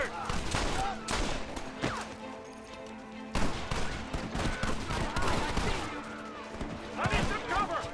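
Repeated bursts of gunfire in a Red Dead Redemption shootout, sharp shots scattered through the clip amid a busy game soundscape, with voices talking over the action.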